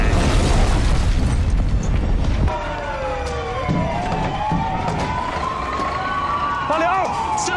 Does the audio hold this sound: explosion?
yes